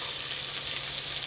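Celery hits hot canola oil in a heavy saucepan over medium-high heat, giving a brief, bright, continuous hissing sizzle heard close up with no voices.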